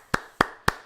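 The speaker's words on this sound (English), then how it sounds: "clapping" A baseball coach at a World Series game between the Dodgers and Rays claps his hands three times in an even rhythm, each clap sharp, close and distinct against a quiet background.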